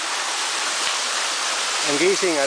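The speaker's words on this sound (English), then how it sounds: "I found a high waterfall in a high level as we found here in Sapangdaku River." High waterfall on the Sapangdaku River at Busay Lut-od Falls, a steady loud broadband roar of falling water filling the whole clip, with a voice speaking briefly near the end.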